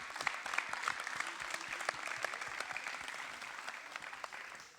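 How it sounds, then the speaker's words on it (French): Audience applause at a school prize-giving ceremony, a lively crowd of hands clapping with sharp individual claps standing out, moderately distant and sustained throughout. "S'il vous plaît, un tonnerre d'applaudissements."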